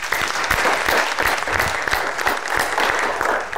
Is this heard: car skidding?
no